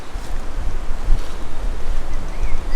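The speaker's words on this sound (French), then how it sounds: "j'ai un micro logiquement fait pour couper le bruit du vent" Strong outdoor wind buffets a microphone, a loud, continuous rumbling roar with gusty surges and no voices.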